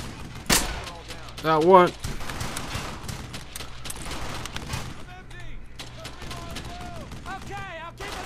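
Gunfire in the World War II shooter Brothers in Arms: Hell's Highway, sharp loud shots and bursts scattered through the scene amid game sounds, with voices talking over the action.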